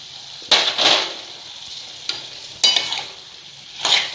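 Brinjal ginger curry is stirred in a pan, with four scraping, sizzling strokes of a spoon against the metal coming in close, separate bursts over a soft background fry.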